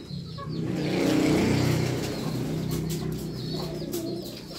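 Pigeons coo in soft, low throaty bursts nearby while a vehicle engine swells and fades in the background.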